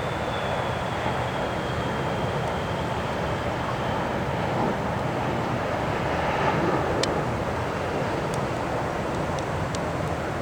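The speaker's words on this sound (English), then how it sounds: "planes landing on the 26 end of the 826 runways" Jet airliners approach to land near the end of a runway at Atlanta's airport, with highway traffic nearby. A broad, steady roar fills the whole stretch, one plane's whine sliding downward early on, and wind buffets the microphone.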